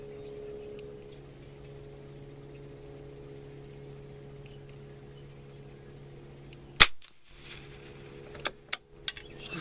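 Rimfire rifle shots at an outdoor shooting range ring out over a steady engine-like hum: one sharp, loud crack, then three quicker, fainter pops near the end.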